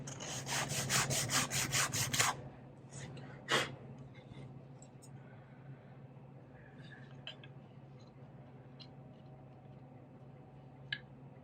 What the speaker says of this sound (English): I'll just sand these very lightly on my sanding block to get off any remaining glue.